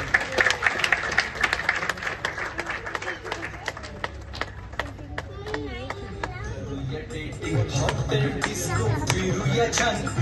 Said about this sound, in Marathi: टाळ्या वाजवा यांच्यासाठी पण